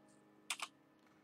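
Computer keyboard during a coding livestream, heard as a quick pair of close, sharp key clicks in the middle of an otherwise quiet moment, with no speech.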